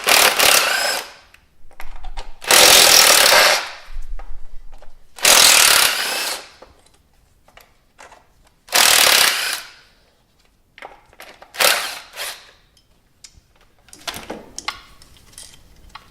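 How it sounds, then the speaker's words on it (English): An electric impact wrench with a 10mm socket zips off ignition coil bolts on a Dodge Neon in several short, loud hammering bursts separated by quiet pauses, with faint clinks of handling in between. "or I'm using the electric impact right now, and there's just 4 bolts which we have to remove"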